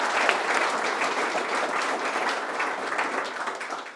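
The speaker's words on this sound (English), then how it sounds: "if everyone can give a round of applause to Jason." Audience applause following a talk on wholesaling, a steady dense wash of clapping from a room full of people that holds throughout before easing slightly at the end.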